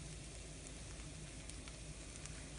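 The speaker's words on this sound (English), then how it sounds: "All right, we have it nice and sizzling." A moong dal lentil crepe sizzles in a hot pan, giving a steady, even crackle and hiss throughout without any voices.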